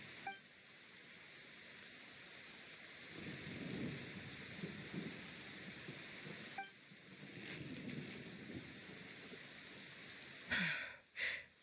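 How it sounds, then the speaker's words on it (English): Thunder rumbling in the video game Genshin Impact, in the region of Inazuma with no rain falling: low, rolling booms swell twice over a steady ambient bed, with a sharper crack near the end. "what was with that thunder just now? It came out of nowhere and it's not even raining."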